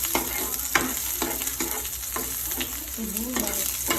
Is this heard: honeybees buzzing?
no